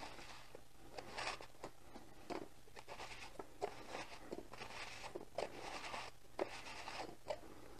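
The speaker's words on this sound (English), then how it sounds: "Turn the can on its top and rotate it against the pencil point." A pencil point scores a line around a metal juice can as the can is turned on its top against it, giving a quiet, rhythmic series of scratchy scraping strokes, close and faint with no talking.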